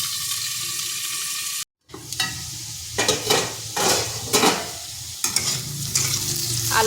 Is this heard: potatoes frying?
yes